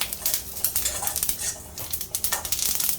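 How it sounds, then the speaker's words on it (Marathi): Cumin seeds dry-roasting in a pan for a spicy Nashik-style vajdi masala, giving a close, steady crackle and rustle with occasional scraping stirs, no voices. "हे जिरं सगळं टाकते भाजून घ्यायचं आम्ही चांगलं"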